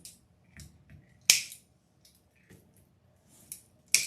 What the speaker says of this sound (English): I'm going to cut those tails off.